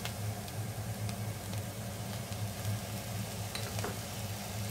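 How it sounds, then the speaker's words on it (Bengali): Onion paste with ginger garlic paste frying in a pan for beef haleem, giving a steady, close sizzle that holds even throughout with faint stirring scrapes and no talk. "পেঁয়াজ বাটা আমি কিছুক্ষণ কষিয়ে নেব"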